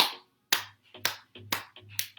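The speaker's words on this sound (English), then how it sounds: "Now applauding yourself, also tapping into all the pressure points." Hands clap and tap against the body on pressure points in a sharp, irregular series of about seven close, dry smacks, each short with brief pauses between, in an otherwise quiet room.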